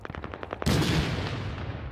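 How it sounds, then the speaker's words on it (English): Gunfire in the Iraq war video game Six Days in Fallujah: a quick run of rapid shots, then a heavy, sustained blast of fire that rings out and slowly fades. "God damn it, someone's shooting at us."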